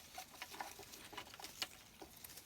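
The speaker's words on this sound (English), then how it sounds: "Well, I think it's just starting to rain outside." Light rain begins falling outside, a soft scattered patter of drops ticking irregularly at a distance, quiet and with no talking.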